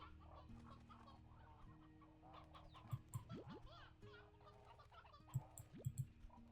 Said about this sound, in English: Oops, rooster, go back.